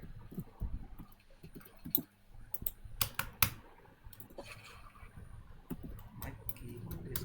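Keys clatter in uneven bursts on a computer keyboard, close and fairly quiet, with a few sharper clacks standing out and no voices.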